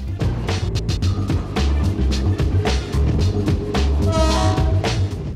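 A train crosses the Pasig River in Pandacan, Manila, loud and close, with rhythmic heavy clatter of wheels over the rails, a rumbling low drone and a brief horn-like tone near the end.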